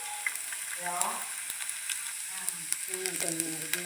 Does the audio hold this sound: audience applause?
no